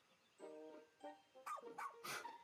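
A dog barks in the video game Pikmin 4: a few short, tonal woofs close together, followed by several sharper, noisier yaps.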